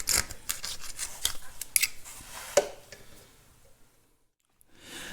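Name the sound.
digging dried seal out of bulldozer final drive splines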